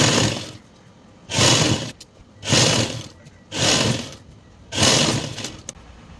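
A sewing machine stitches elastic on palazzo pants, running in four loud, even bursts of about half a second to a second each, separated by short pauses.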